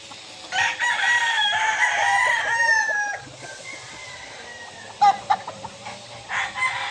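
Papay Gray gamefowl rooster crowing loudly and close, one long strained crow followed by quieter sustained calling and a few sharp clucks near the end.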